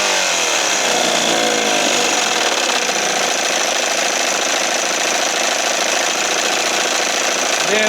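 A 1968 Evinrude Fisherman 6 hp outboard motor runs loud and close with a steady buzzing drone after a brief rising rev at the start, staying even throughout.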